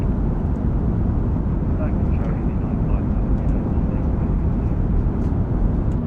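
An airliner's engines roar steadily during takeoff in Microsoft Flight Simulator, loud and continuous throughout, with radio voices talking over the noise.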